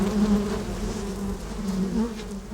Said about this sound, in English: That's a bee going back to the hive.